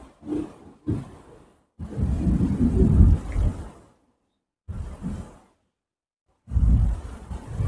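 Sudden heavy rain with thunder: deep rumbling rolls arrive in separate bursts, one long loud roar in the middle, with quiet gaps between them.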